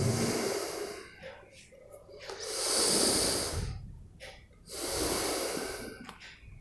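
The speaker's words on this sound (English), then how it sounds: "We take a long deep breath, inhale and slowly exhale" A yoga breathing exercise for beginners: long, deep, airy inhales and slow exhales, heard up close in about three rising and falling waves, each breath loud and hissy and separated by short quiet gaps.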